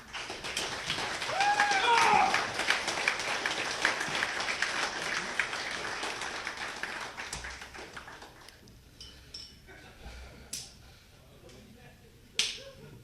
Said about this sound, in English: Round of applause for this guy.